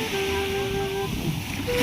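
Sea waves wash against the shore in a steady rushing surge, mixed with wind buffeting the microphone.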